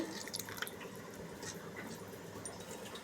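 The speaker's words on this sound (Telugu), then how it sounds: "దీంట్లో కొంచెం వాటర్ వాటర్ కూడా దీంట్లో పోసేస్తున్నానండి" Water poured into a pan of Andhra-style fish curry masala, a faint, steady trickle and drip with a low background rumble, with no voices.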